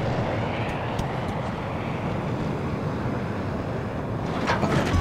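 An F-35 jet flies in Battlefield 2042 with a continuous loud roar and rushing wind noise, close and steady, swelling slightly toward the end.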